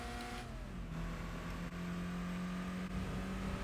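Isuzu sports car engine droning steadily in Gran Turismo 4, a continuous even hum with a sustained tone, no voice over it.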